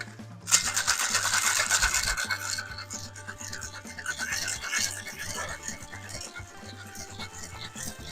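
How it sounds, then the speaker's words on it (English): A rum cocktail with crushed ice is shaken hard in a shaker, a dense, rapid rattling scrape that starts sharply and continues for several seconds, gradually easing. "Then give it a quick shake."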